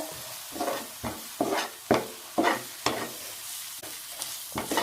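Masala frying in oil for an egg gravy while a spoon stirs it, with close, rhythmic scraping strokes roughly every half second over a soft sizzle.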